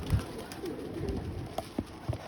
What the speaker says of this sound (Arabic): الحمام بيشخور عليه